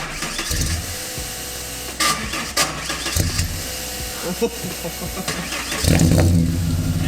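Ford AU Falcon with an Intech turbo engine idling and revving in short bursts, loud and close, with people talking over it.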